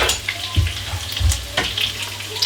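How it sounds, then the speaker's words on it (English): Chicken sizzles and crackles frying in a hot pan, with a few soft thumps as pieces shift, steady and close. "Just leave it frying in the pan"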